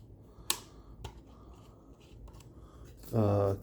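A rotary tool has its cutting wheel swapped for a carving tip: a few sharp, close metallic clicks of handling, then a brief buzzing burst at the end.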